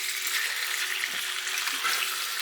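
Lamb stir fry with harissa sizzles steadily in a worn pan on a non-scratch surface, a continuous bright hiss with a few soft scraping stirs, close and alone.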